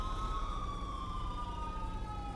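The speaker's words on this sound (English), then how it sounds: "What is up with those sirens?" Police siren in a video game, a steady wailing tone slowly falling in pitch over a low engine rumble, fairly faint and continuous with no voices.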